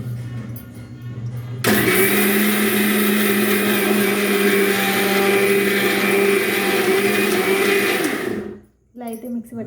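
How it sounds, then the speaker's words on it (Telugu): A kitchen mixer grinder whirs loudly and steadily for about seven seconds as it grinds dosa batter made with rice and wheat grains. It then winds down and stops, and a few faint sounds follow. "ఇలా అయితే మిక్సీ పట్టేస్తున్నాను కదండి."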